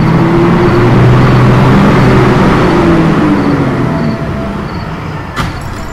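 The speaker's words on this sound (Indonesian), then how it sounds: "Ternyata sebuah truk pasir melintas." A sand truck passing on a road, its loud, close rumble and droning engine note sliding downward as it goes by, easing off toward the end with a short clank.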